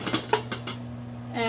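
A whisk clicks rapidly against a pot of sauce with ground mustard, several quick bright metallic taps in succession, close and clear, then a brief hum.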